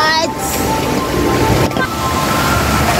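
Flood water gushes into a roadside gutter that runs under the road, a loud, close, continuous rushing roar with wind buffeting the microphone.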